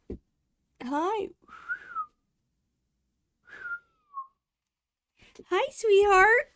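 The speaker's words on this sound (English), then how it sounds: "She heard me whistle and was like, what's up?" A person whistles a few short, wavering notes in a game-playing setting, with a pause between phrases, bracketed by bursts of speech before and after.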